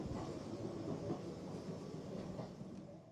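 Train wheels clatter in a steady rhythmic rumble inside a museum train carriage, a continuous moderate clickety-clack with a faint hiss, played alone.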